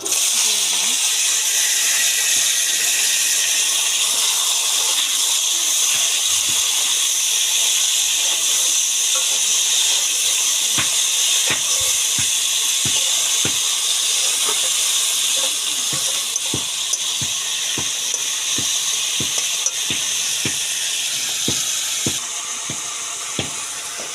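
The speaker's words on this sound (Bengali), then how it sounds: "এই যে আমি তেল দিয়ে দিলাম তেলটা গরম হয়ে গেছে দিয়ে দিলাম কাঁচা লঙ্কা তারপরে আলুগুলো" Potatoes and green chillies frying in hot oil, a loud, steady hiss with scattered sharp pops and crackles throughout, close and continuous.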